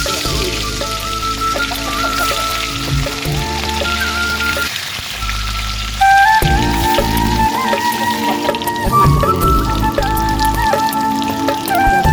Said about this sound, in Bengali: তেলটা গরম হয়ে গেছে এবার মাছগুলো ছেড়ে দেবো